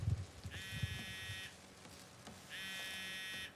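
Phone vibrating with an incoming call in the Spider-Man PS5 game, two separate buzzing pulses about a second long each, faint and close, with soft clatter at the start.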